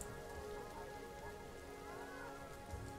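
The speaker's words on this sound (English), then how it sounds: "Because it's raining." Steady rain falls in the Planet Zoo video game, a continuous soft hiss of drops on surfaces, quiet and even throughout with no talking.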